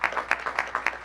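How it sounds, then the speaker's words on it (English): Scattered clapping from a small group at a county council session, a handful of distinct claps in an uneven rhythm, fairly close and moderate in volume. "Could we get another round of applause for her, please?"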